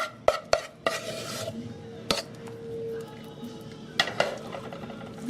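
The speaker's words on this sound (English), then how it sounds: "You want to spread this on top with the back of your spoon." A spoon spreading gluten-free, dairy-free vegan fudge across a pan, with several sharp taps and clinks of metal on the pan and soft scraping between them, close and clear, without voices.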